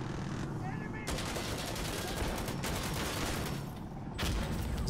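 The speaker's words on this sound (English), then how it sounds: "Holy fucking artillery barrages" Insurgency: Sandstorm firefight with an artillery barrage: near-continuous loud volleys of rapid gunfire and blasts roll on almost without pause, briefly thinning out before another heavy burst.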